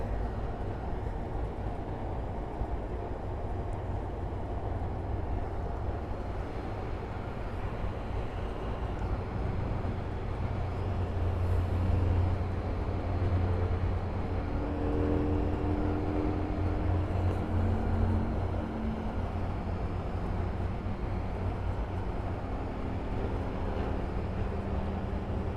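A passenger airliner touching down at Miami airport: a steady, broad low-frequency engine roar and rumble holding for the whole stretch, swelling slightly midway, with no talk over it.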